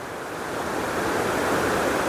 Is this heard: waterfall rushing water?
yes